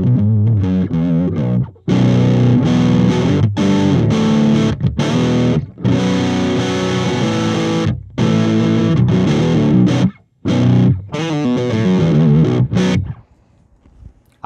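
Electric guitar through Kyro Audio Dulo and Kuki amp/preamp pedals, two chords strummed with a driven, slightly distorted tone, loud and close, rhythmic bursts with brief breaks and a fading ring at the end.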